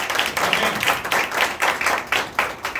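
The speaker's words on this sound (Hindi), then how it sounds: "जोरदार तालियां यीशु के लिए।" Steady applause from a church congregation, a dense wash of clapping that swells and pulses for a few seconds.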